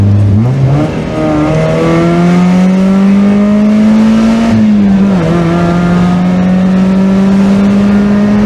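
A small high-revving Mazda Miata engine drones loud and close, its pitch climbing steadily, easing briefly, then holding a high sustained whine with no talking.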